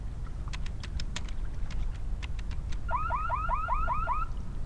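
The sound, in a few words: alarm going off in The Longest Journey video game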